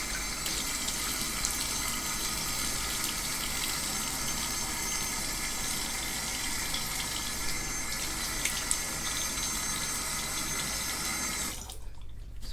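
Tap water runs steadily into a sink while a face is rinsed, a continuous close splashing hiss that cuts off abruptly near the end.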